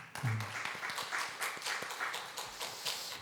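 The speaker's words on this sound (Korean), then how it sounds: "며느님하고 다시 한번 뜨겁게 박수" A church congregation claps warmly during a Parents' Day Sunday service, steady mid-level applause with distinct individual claps, fairly quiet and distant.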